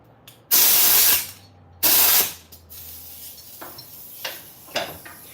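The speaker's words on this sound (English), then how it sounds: "So, air compressor hooked up to the splitter." An air compressor connected to a splitter in a shipping-container micro shop lets out two loud, sustained bursts of hiss and then several softer puffs and clicks, close by and with no speech.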